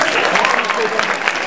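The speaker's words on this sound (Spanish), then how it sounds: "Un gran aplauso a estos vecinos artistas." A crowd at a school event for a choir of secondary-school teachers applauds steadily, a dense wash of close handclaps with no pause.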